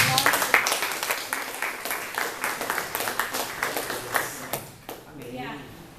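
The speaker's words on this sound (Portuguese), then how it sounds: "Aplauda ao Senhor, irmão." At an evangelical church service, the congregation claps in a loud, irregular burst of many hands that gradually thins out, with voices mixed in and a final trailing fade near the end.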